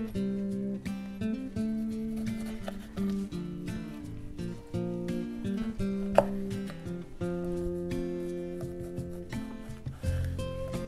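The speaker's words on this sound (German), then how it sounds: "Und dann werden wir uns einfach Viertel schneiden." A knife cuts limes into quarters on a board: a series of soft, irregular chopping taps sounds over steady background music, with one sharper cut partway through.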